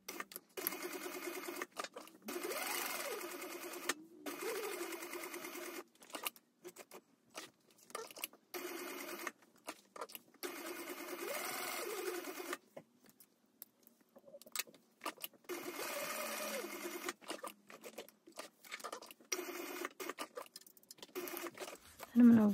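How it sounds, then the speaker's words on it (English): Sewing machine stitching around the perimeter of a Hugo handbag by Carbon Chic, running in steady bursts with pauses between them, close and fairly loud. "we're going to stitch all the way around the perimeter"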